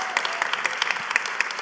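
Crowd applause for a mother in the audience at a Purpose Club Tour event in Atlanta, a short, dense burst of many hands clapping close and steady throughout.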